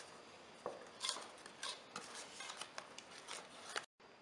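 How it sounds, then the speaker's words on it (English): Banana chocolate chip bread batter being stirred in a bowl, quiet irregular scrapes and clinks of a utensil against the bowl, close and alone, ending in a brief dead silence. "stir for 2 minutes"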